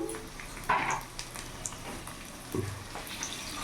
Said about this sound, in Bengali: একটু লবণ হলুদ দিয়ে ভেজে নেব। হাফ চামচের মতো লবণ দিয়ে দিলাম, সামান্য অল্প হলুদ গুঁড়ো দিয়ে দিলাম